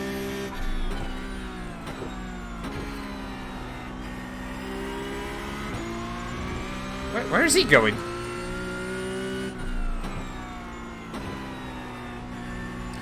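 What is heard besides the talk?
Porsche Cup race car engine at Watkins Glen, iRacing video game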